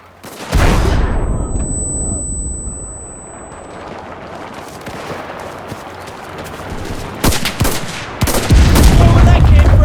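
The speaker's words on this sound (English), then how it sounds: "Artillery! Fire at the square!" Loud artillery fire and explosions in the Pacific War video game Enlisted, set during a Gavutu South invasion defense, with heavy booms at the start and end and dense gunfire rumbling throughout.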